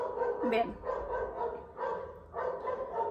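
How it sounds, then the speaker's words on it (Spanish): A dog barks outside an open window, several sharp barks in bursts at moderate distance, mixed in with someone talking nearby. "Disculpen si se escucha un perro ladrando"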